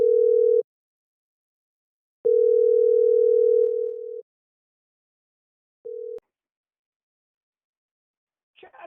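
An outgoing phone call plays a steady electronic calling tone in clean bursts, one short, one long and one brief, separated by silence. The tone sounds clear and alone.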